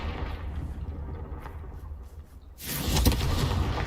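Confringo blasting spell in Hogwarts Legacy, a low rumbling lead-in followed by a louder burst and sustained explosive roar in the last second and a half.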